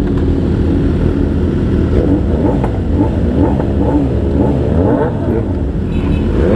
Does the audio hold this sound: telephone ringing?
no